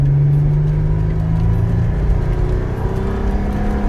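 A 2011 Toyota 4Runner pulls hard under acceleration, its engine a loud, steady low drone with a rising whir and rumble inside the cabin, no voices over it.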